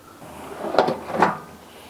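A garage drawer slides shut in two quick close movements, each a short scraping rumble with a soft knock, against a quiet room background.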